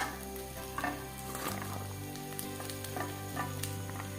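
Rice frying in a pan with chopped papaya just added, giving a steady, close sizzle with light stirring scrapes, with no talking.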